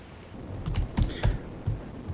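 A few keystrokes on a computer keyboard, about five soft clicks spaced irregularly, close and fairly quiet, with no talk.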